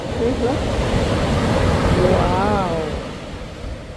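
Ocean surf rolls onto the shore at Montauk near the lighthouse, a steady close, loud roar of breaking water with wind, while people talk and exclaim over it.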